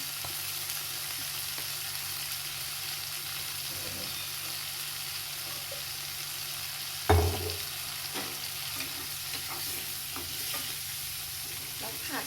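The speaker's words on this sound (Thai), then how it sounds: "แล้วผัด" Chinese kale stir-frying with canned fish, a constant quiet sizzle with one sharp clatter of a utensil against the pan and occasional faint scrapes.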